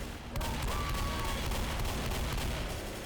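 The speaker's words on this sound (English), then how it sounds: "I want to shoot him." Gunfire from the zombie shooter Left 4 Dead, a dense burst of rapid weapon shots with booming reports that runs steadily for a few seconds against the game's background noise.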